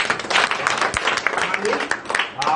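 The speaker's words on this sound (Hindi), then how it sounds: "एक बार जोरदार तालियां" A gathered crowd of women gives a round of loud applause at a public event, dense continuous clapping mixed with voices throughout.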